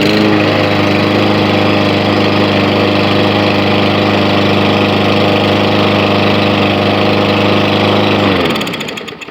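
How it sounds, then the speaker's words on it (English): A Briggs & Stratton lawn mower engine runs loud and steady at close range, then cuts out and winds down in the final second. "ready to start, just pull for power"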